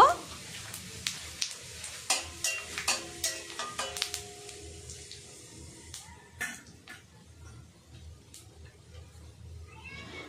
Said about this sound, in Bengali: সাবুত জিরা, হালকা নাড়াচাড়া করে নেব।